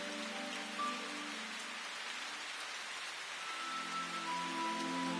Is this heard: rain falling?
yes